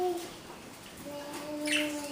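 Parakeets perched in a row chirp softly, thin high calls rising now and then over a quiet background, a little louder toward the end.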